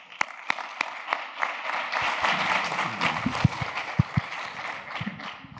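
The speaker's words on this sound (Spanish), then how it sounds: "Un aplauso de bienvenida a Alan y Andrés." Audience applause welcoming guests at a business talk, scattered sharp claps at first that swell into a brief burst of clapping, with some louder individual claps standing out.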